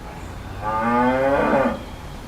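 Cattle on a rural location give one long, loud, close moo that swells and fades, standing out clearly against quiet background.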